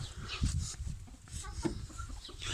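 Several chickens cluck and murmur in short, irregular bursts, close by, with soft rustling in between.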